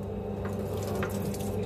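Water streams steadily into a sink as a Mitsubishi Delica intercooler gets rinsed, a close, constant running-tap splash with no voices.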